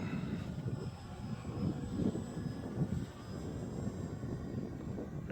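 A Dancing Wings Hobbies Fieseler Fi156 Storch RC plane flies overhead, its small engine a steady distant drone that swells slightly and fades across the flight, heard alone outdoors.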